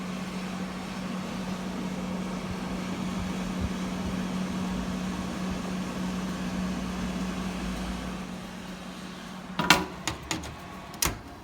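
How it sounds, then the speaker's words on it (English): Motorcycle parts go into a powder coating oven: a steady, close mechanical hum drones throughout, then a few sharp metallic clanks and clicks land in the final two seconds as the pieces are set inside. "So I'm going to put them in the oven right"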